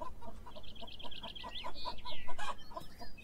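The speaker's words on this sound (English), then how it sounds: "But hey, hello, chickens." Chickens in the video game Beyond Eyes cluck in a steady run of short, moderately close calls, with a few higher squawks mixed in over a soft ambient backdrop.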